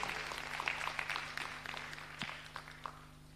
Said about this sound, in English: Let's clap our hands again.